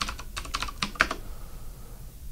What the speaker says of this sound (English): You can type their name.